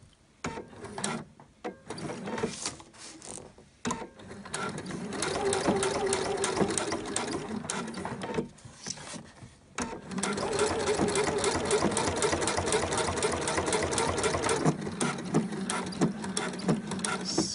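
A sewing machine stitches a velcro strap onto a jacket, running in loud close mechanical bursts with brief pauses between them.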